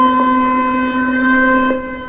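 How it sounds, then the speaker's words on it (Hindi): Air raid siren wailing in Pakistan, a steady harmonic tone held loud and continuous for a couple of seconds before easing slightly at the end, with no voices. "ये पाकिस्तान का सायरन बज रहा है"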